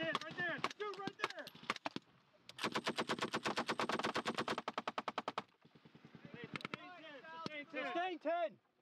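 Rapid machine gun bursts rattle during an army infantry training exercise at South Range on Schofield Barracks, Hawaii. A long sustained burst sits in the middle, with shorter volleys around it and soldiers shouting in between.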